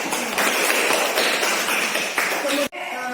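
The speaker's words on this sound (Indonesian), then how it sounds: "silakan Ibu beri tepuk tangan" Classmates in a grade 6 classroom clap hands together for a group that answered a question, a steady close patter of many hands lasting about two and a half seconds before stopping abruptly, followed by quiet room sound.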